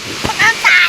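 Steady rush of a waterfall with splashing, heard close by under a brief voice.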